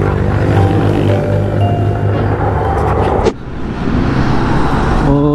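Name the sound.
fast cars passing on a road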